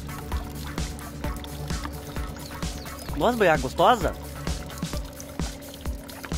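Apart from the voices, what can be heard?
spring water trickling from a mountain spout into a bottle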